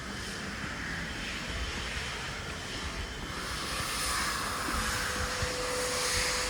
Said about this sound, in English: See a Virgin plane here, Virgin Atlantic, A330.